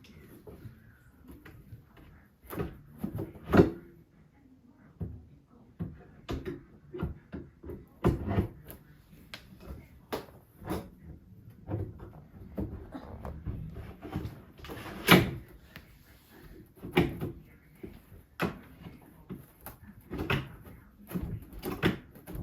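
Wooden drawers being pushed and fitted into a bedroom vanity, with repeated knocks, slides and thuds in an irregular rhythm, close and moderately loud, with occasional faint talk.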